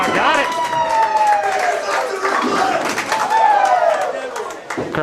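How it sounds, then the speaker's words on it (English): A crowd at Varsity Lanes bowling alley cheers and claps after a strike, loud and sustained for several seconds, with a commentator talking over the noise. "Crowd goes wild here at Varsity Lanes with that second strike by Junior"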